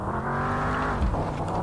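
A car engine hums steadily as the car is driven in the video game Mon Bazou, a loud, close, continuous motor drone with a slight change in pitch partway through.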